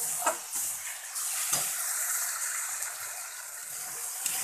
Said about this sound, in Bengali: এই দেখো সমস্ত মশলা দিয়ে দিয়েছি, এবার এটাকে ভালোভাবে কষিয়ে নেবো।